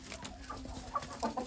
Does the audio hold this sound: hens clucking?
yes